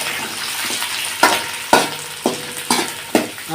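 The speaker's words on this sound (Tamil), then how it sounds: "வசக்கு கிண்டணும்" Small onions sizzle in hot oil for a spicy fish curry while a spoon stirs them, giving a steady frying hiss broken by about five sharp scraping strokes against the pan, close and loud.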